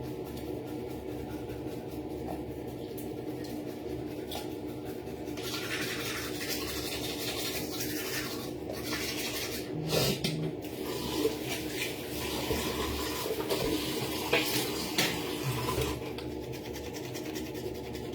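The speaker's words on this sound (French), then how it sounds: "Ça, c'est pour brosser la langue." Toothbrush scrubbing the tongue, a close, continuous scratchy brushing with occasional louder strokes and faint watery sounds, no talking.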